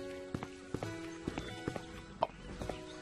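Horse hooves clip-clop in an uneven walking rhythm in the Hannah Montana: The Movie video game, a series of sharp knocks over a faint background hum, no voices.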